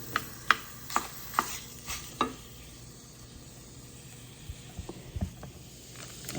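Sausage cooks in a pan for a cheesy sausage dip while a utensil breaks it up, sending a series of sharp scraping taps and clacks over a soft sizzle, then lighter scattered clicks.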